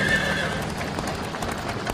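A frightened horse pulling a caravan gives a loud, shrill whinny up close, with hooves clopping and a voice underneath.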